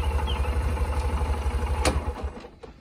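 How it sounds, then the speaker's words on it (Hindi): A Honda SP 125 motorcycle engine idles with a steady low, pulsing rumble, then cuts out and fades near the end as the side stand is engaged in gear. "बाइक को यहाँ से स्टार्ट कर लेता हूँ, देख सकते हो बाइक स्टार्ट हो चुकी है।"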